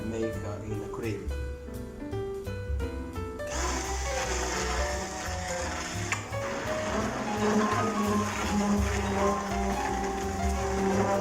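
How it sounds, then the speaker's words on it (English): A kitchen blender whirs loudly and steadily as it purees a cooked potato and leek soup into a cream, the motor starting abruptly and running continuously while a person talks over it. "Now we're gonna blend it with the blender, and we're gonna make in a cream."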